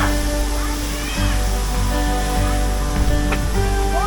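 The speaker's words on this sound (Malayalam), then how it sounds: "ഇരിച്ചിൽപ്പാറ പൊതുവെ സുരക്ഷിതമായ വെള്ളച്ചാട്ടമാണെങ്കിലും" Rushing water of Irichilpara waterfall in Idukki roars steadily close by, with voices talking over the constant spray.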